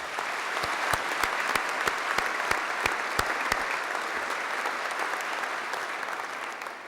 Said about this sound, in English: We deserve a round of applause again for that.